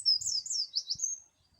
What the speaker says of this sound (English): Was that a dunnock or was it a wren?